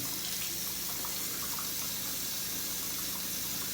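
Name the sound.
water running from a tap to warm up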